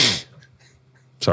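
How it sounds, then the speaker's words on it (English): A person with a cold sneezes once, a sharp close burst of breath at the start, followed by a short quiet gap before a voice speaks briefly. "and I sniffle, and I sneeze"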